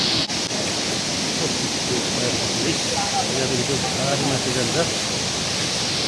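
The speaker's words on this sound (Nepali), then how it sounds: "अरुण नदी हो।" The Arun river rushes loud and steady near the Nepal-China border at Kimathanka, a dense broadband roar of fast water filling the whole stretch, with brief speech heard over it.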